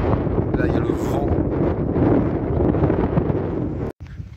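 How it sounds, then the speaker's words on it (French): Strong wind buffets the microphone on a scenic road in Utah, a loud continuous rumbling roar that cuts off abruptly near the end. "Là il y a le vent."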